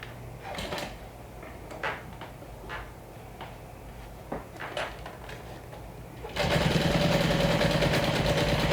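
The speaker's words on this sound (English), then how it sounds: "I'm top stitching about 1/8 of an inch away from the fold" A sewing machine starts top stitching fabric after a few seconds of small handling clicks and taps, then runs in a loud, steady, rapid whir close by.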